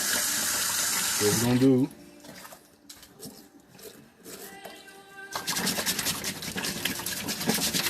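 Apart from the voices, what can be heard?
hot water running for cleaning sneakers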